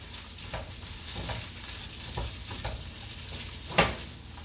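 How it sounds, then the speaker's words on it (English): Gnocchi frying in a skillet, a continuous close sizzle broken by soft scraping stirs and a sharper clatter near the end. "we're going to go ahead and stir our gnocchi"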